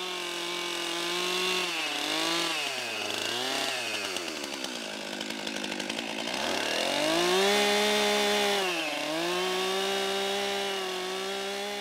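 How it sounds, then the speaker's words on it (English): A chainsaw's bar tip brushes the concave faces of a log notch in log building, its engine whining loud and close throughout, the pitch rising and falling as the throttle and load change. "almost all the faces need to be brushed concave with the tip of the chainsaw's bar."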